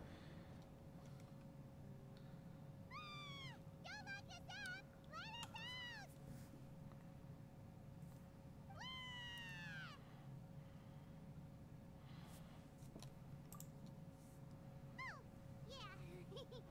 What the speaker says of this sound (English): I have a good cat.